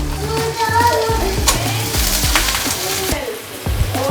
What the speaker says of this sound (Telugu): పీతలు యాడ్ చేస్తున్నాను నేను ఈ టైంలో